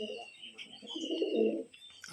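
Pigeons coo softly at a loft, a low throaty burble rising and falling over about two seconds, fairly close, with a faint high whine in the background.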